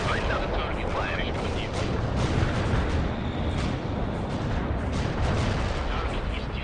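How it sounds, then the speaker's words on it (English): Continuous rumbling barrage from World in Conflict: Soviet Assault, dense overlapping booms of artillery and gunfire blended into a loud, sustained wall of battlefield noise with no gaps. "Artillery is lined up. Target firing."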